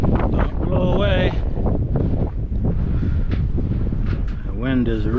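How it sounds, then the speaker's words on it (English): Strong, gusty wind buffets the microphone outdoors during vinyl siding installation work, a loud constant roar with a voice speaking over it at times. "The wind is rugged today."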